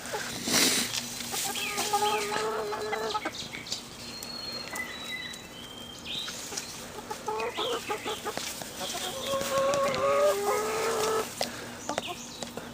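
Backyard hens, a Barred Rock, an Americana and a Golden Laced Wyandotte, cluck and chatter eagerly, with repeated close calls rising and falling over a steady outdoor background.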